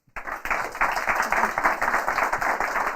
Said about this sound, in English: give a round of applause to our panels